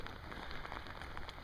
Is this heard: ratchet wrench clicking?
no